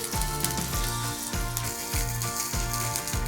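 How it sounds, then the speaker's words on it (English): Sliced onions sizzling and frying in hot coconut oil for a chicken curry, a loud, close, continuous crackle with a rhythmic stirring scrape repeating about every half second. "Okay, the oil is hot. Now add 2 sliced onions."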